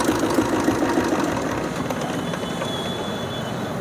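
An old 1983 diesel Bullet motorcycle with self start runs steadily up close, making a rapid, even chugging knock with a faint whine above it. It keeps going throughout without cutting out.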